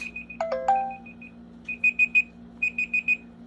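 A pager beeper going off with short electronic beeps, a first run of beeps with a few chirps among them, then two quick bursts of three or four beeps over a low steady hum.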